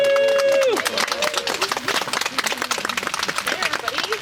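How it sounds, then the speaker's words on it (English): A crowd outdoors at a homeless coalition sleepout fundraiser in Sitka breaks into dense applause and clapping after a brief whoop, loud and continuous with cheering voices mixed in. "Please, please give a huge round of applause to Jade from SB."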